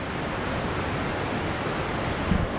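River rapids and small cascades rush through a canyon of turquoise water on Vancouver Island, B.C., making a steady, dense roar that fills the whole stretch with no voices.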